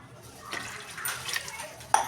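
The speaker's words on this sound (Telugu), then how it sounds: "మనం రైస్ ఎంత తీసుకుంటే దానికి డబల్ క్వాంటిటీ వాటర్ యాడ్ చేసుకోవాలి" Water splashes close by into a pot of rice for vegetable biryani, eight glasses to four of rice, in short pouring bursts with light clinks of the vessel.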